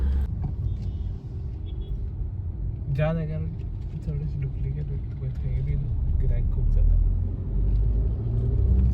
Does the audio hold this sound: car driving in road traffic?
yes